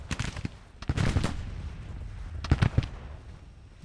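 Scattered musket and rifle volleys crack out in an American Civil War video game battle, clusters of sharp shots near and far over a low rumbling din.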